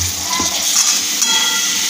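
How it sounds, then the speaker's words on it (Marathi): Potatoes stir-fry in spice masala for a potato rassa curry, giving a loud, close, continuous sizzle with faint stirring underneath throughout. "बटाटे आपल्याला छान परतवून घ्यायचे आहे मसाल्यामध्ये"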